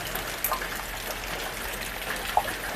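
Steady outdoor rain gives an even, soft hiss, with a few sharper drips and patters landing nearby and no one speaking.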